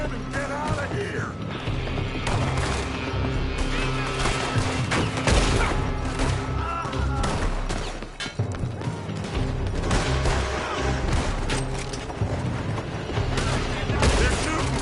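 Gunfire in a Red Dead Redemption 2 shootout, with rapid overlapping shots and clattering bursts crowding a busy, dense mix that runs throughout, interrupted briefly by a dip before the shooting resumes.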